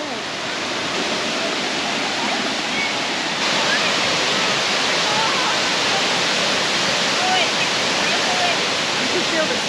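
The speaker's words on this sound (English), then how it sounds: "There's plenty of water flowing." Millaa Millaa Falls pouring with plenty of water, a broad, steady rushing roar that fills the whole span evenly, loud and continuous with no voices.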